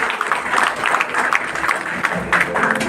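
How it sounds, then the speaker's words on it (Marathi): A crowd claps steadily in dense applause at a company's product event in Vashi, loud and continuous for the whole stretch, with no single voice standing out. "त्यांना जोरदार टाळ्या लागतात"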